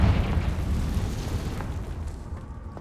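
Confringo fire explosion spell going off in a wizard video game, a loud dense rumbling blast that fills the clip and slowly decays, with low booming energy and scattered crackles.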